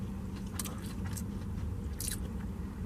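Fried oysters are bitten into and chewed close to the mic, giving a few soft crunchy bursts over steady low background noise.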